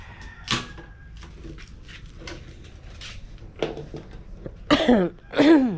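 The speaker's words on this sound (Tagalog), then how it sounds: "Grabe na ubo ko." Several harsh coughs burst out near the end, two loud clustered bouts after quieter scattered knocks and rustling.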